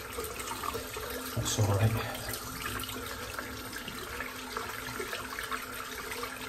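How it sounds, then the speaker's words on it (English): Running tap water rinses soap out of a shaving brush at a sink, a steady close wash of water with a brief louder splash, while someone speaks briefly. "The brush sorted, rinse the soap out."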